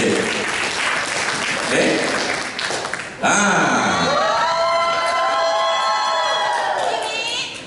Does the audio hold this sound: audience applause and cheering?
yes